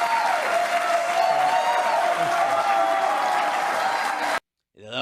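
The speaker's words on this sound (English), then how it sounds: "The longer they clap and scream" A crowd at Mar-a-Lago claps and cheers steadily for several seconds, a dense, loud wash of applause with shouting mixed in, ending abruptly.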